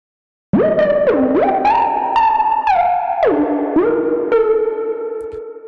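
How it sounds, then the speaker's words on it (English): A gliding plucky synth line from Cherry Audio Voltage Modular, sustained notes stepping up and down with a bright, distorted edge and a plate reverb tail, no voices. "Really, really great sounding plate reverb."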